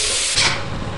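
Loud, close steam hiss from a vent in the Lethal Company video game. A broad, rushing spray that swells briefly partway through and keeps going to the end, with no talk over it.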